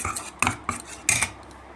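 A spoon stirs and scrapes gram flour face pack paste in a small bowl, giving several short clinking, scraping bursts with pauses between them, close by and without talk.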